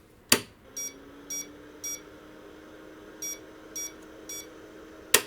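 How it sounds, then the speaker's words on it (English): A sharp click, then a series of short, evenly spaced electronic beeps in two groups of three from an IBM 5162 XT/286 computer that hangs on startup, ending with another click over faint background hum. "And now we're actually getting some beeps."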